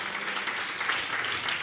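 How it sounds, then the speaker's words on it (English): Congregation at a prophetic church gathering clapping hands, a steady moderate roar of many hands from across the room, continuous and unaccompanied by speech. "Someone clap your hands to Jesus."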